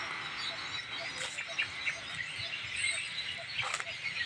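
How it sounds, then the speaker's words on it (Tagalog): Many birds chirping together outdoors, a faint, busy chorus of overlapping high tweets and calls with scattered louder chirps, heard at a distance against low background noise. "daming ibon dito mga kabarks"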